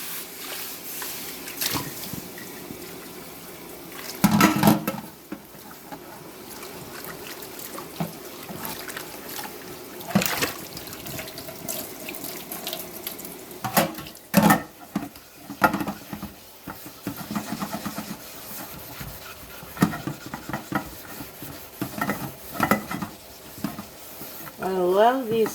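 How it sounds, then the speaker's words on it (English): Running water splashes and trickles over a pan being scrubbed clean, with irregular clanks and scraping bursts of metal cookware, close and fairly loud, while a person talks throughout. "We'll go ahead and get this pan clean and continue on"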